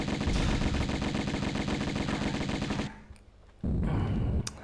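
Rapid bursts of gunfire from the video game Tomb Raider I Remastered, a loud sustained volley that cuts off briefly before resuming, with no talk over it.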